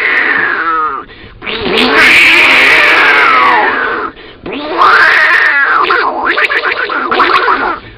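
A voice imitates two cats fighting, with drawn-out, wavering yowls and caterwauls in two loud bursts separated by a short pause, close and alone.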